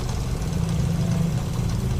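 A motorbike idling as it comes to a halt under a large peepal tree in the rain, a steady low engine rumble with a faint pulsing throb at constant volume.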